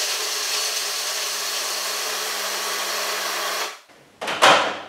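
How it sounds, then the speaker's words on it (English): A food processor grinds nuts down fine for a raw cheesecake base, a loud steady whirring motor held for nearly four seconds, then cutting out abruptly before a brief rattling restart. "Put the base nuts into a food processor or something like a high-speed blender, and just process those off so they're nice and fine."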